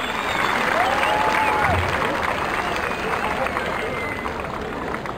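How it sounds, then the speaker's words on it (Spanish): Applause and crowd noise outdoors at a military parachuting display in Sonsonate as a parachutist lands, a broad steady wash of clapping and babble with a few whistles over it. "Recibámoslo con un fuerte aplauso a este paracaidista del equipo militar."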